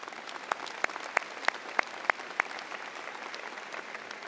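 A round of applause at a high school commencement ceremony: a broad, steady wash of crowd clapping with several sharper, louder claps rising above it at regular intervals early on, then continuing evenly.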